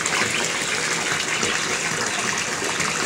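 Tap water pours steadily into a bathtub as a broad, continuous gushing rush, close and loud throughout with no pauses.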